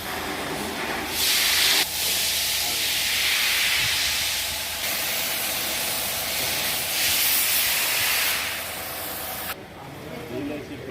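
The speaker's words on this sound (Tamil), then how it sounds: "இந்த ஹை பிரஷர் பம்ப்ல பவர்ஃபுல்லான மோட்டர் தாங்க யூஸ் பண்ணியிருக்கோம்" A high-pressure washer pump with a powerful motor sprays hard, a loud continuous hissing jet that surges and eases in pressure over a constant motor whine, with talk over it.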